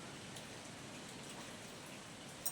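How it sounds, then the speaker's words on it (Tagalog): Steady rain falls outside, a soft even hiss of drops with no talking over it, ending with one small knock. "Ulan eh."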